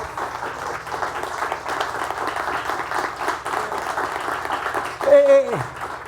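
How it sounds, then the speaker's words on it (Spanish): Broad, steady applause from a large church congregation fills the space, ending as a single voice speaks out briefly in Spanish over it near the close. "Dale el aplauso al Señor."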